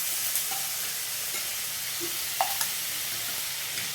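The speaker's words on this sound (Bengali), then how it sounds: "রসুনটা ভাজা হয়ে গেছে, এবারে আদা বাটাটা দিয়ে দেবো।" Ginger paste frying in oil on top of already fried garlic paste and red chilli tempering, a quiet steady sizzle broken by a few sharp stirring scrapes and clinks, with no voices.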